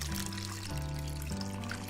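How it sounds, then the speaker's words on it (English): Cold water runs steadily from a tap into a cooking pot over raw potatoes, a constant, even rush and trickle with no voices. "So we're gonna fill our pot, and you want to cover your potatoes with cold water."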